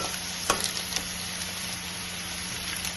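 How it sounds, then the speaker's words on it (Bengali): Taro stolons fry crisply in a pan, giving a steady close sizzle with a few sharper crackles and stirring knocks near the start. "একটু কড়া করে ভাজবো জিনিসটা"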